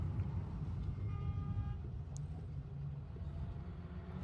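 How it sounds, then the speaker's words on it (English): A distant car horn gives a brief faint toot over the low rumble of road traffic, heard from inside a moving car, with no talking. "It's because someone honked at her."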